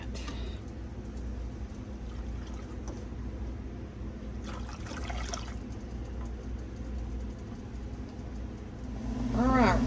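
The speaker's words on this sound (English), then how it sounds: "But we are at a rolling boil." Peach scrap jelly with sugar at a rolling boil in a pan on the stove, giving a steady, dense hiss and bubbling that holds evenly throughout, swelling slightly louder near the end.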